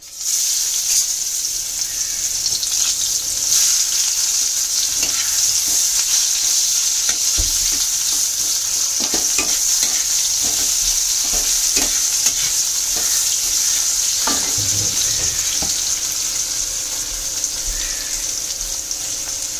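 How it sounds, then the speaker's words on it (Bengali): Onions sizzle continuously in hot oil, a bright steady hiss, with occasional scrapes and knocks of a spatula stirring the pan. "তেল গরম হয়ে গেছে, এবার আমি এখানে পেঁয়াজ দিয়ে দেবো।"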